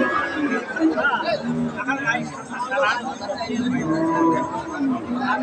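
A cross-breed dairy cow, six teeth in age, lows at a busy cattle market, her moos heard under constant crowd chatter and nearby voices.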